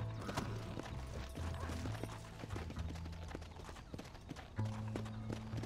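A horse gallops in the Western video game Red Dead Redemption, its steady clip-clop of hooves carrying on throughout under game music and low mechanical noise.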